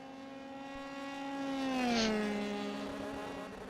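Open-wheel race car engine in a racing video game at Twin Ring Motegi, a single car passing by with a rising then falling pitch, swelling louder at the middle and fading away.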